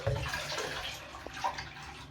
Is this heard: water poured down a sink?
yes